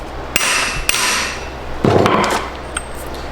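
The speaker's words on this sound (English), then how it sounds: "you put a socket there, and you just hammer it a few times" A hammer drives a socket onto a plate during a cracked rear subframe repair on an E46 M3: three sharp metallic strikes, fairly close and loud, spaced irregularly, with no talking.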